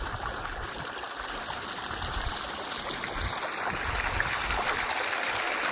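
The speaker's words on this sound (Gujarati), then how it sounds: "પ્રકાશભાઈ અત્યારે પોતાના સોયાબીનમાં પાણી વાળે છે આ પ્રકાશભાઈનો બોર છે" Water from a 58-foot farm borewell gushes into a soybean field in a steady, rushing flow that continues evenly throughout, heard alone at moderate level.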